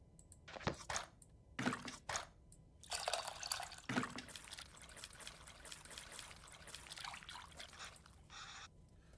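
Water splashing and trickling as it is mixed with tamarind in a bowl in the cooking game Venba, with a few distinct drips and pours, then a steady soft dribble, fairly quiet and close.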